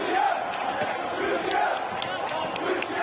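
Football supporters of Traktör in the stands at Tabriz, a dense crowd roaring and chanting together with rhythmic swells, heard from a distance.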